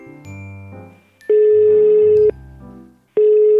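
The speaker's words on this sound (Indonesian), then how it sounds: "Kak Tian telepon aja dulu ya" A telephone call rings out in two long, loud electronic tones separated by a pause, with faint background music underneath before the call is rejected.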